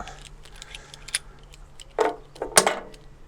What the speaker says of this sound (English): take all your nuts and bolts out